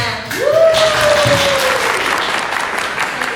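An audience applauding a band's performance at an MC-hosted event, sustained clapping with a gliding tone sweeping through near the start, loud and close.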